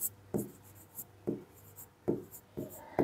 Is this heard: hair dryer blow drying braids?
no